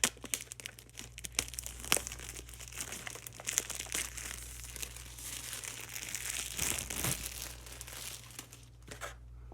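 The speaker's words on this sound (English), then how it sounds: "I'll let you listen to the plastic when we open it up" Plastic wrap on a slate black 5th generation iPod Touch box being slit and peeled open, close, quiet crinkling and crackling with sharp tearing snaps, irregular throughout over a faint steady hum.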